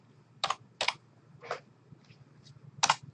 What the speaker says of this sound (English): And I'll continue typing the rest of the information.